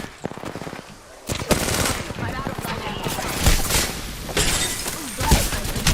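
Rapid gunfire bursts in an EverQuest game session, loud, dense shots and shattering impacts crowding together, with a voice talking over the action.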